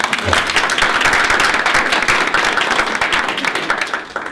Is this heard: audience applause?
yes